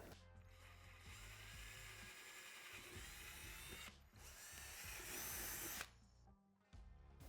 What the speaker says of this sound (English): we'll drill them out using a 1/4 inch drill bit